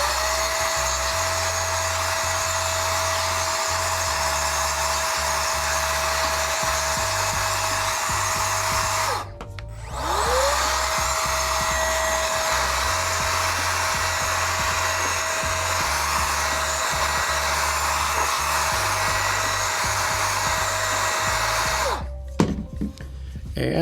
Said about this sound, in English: grab any kind of blower, a hairdryer, anything, and just blast it, get the water out of here